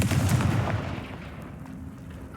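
A Confringo fire spell blasts in Hogwarts Legacy, a loud booming burst up front that rolls into a rumbling tail and fades slowly over a couple of seconds, with no talking.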